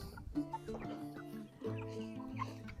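Several meat chickens cluck and murmur close by, overlapping soft, throaty calls in a quiet setting.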